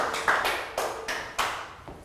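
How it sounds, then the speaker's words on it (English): A few sparse claps from a Year 3 maths class applauding a classmate, four or five separate taps in a quiet room. "Round of applause for Pat."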